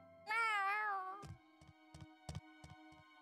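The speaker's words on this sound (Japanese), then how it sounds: "じゃあ金さんの猫のこと任せたわよ" A cat meows in the video game Tales of Arise: one clear, drawn-out, wavering meow, followed by a string of soft, evenly spaced tapping sounds, with no voices.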